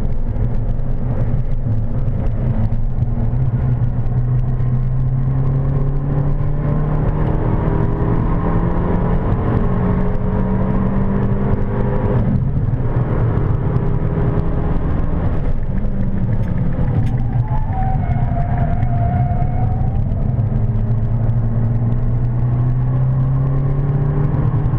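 Abarth 695 Biposto engine droning from inside the cabin during a passenger ride on the Silverstone circuit, a loud, continuous rumble with rising and falling pitch as it accelerates and shifts.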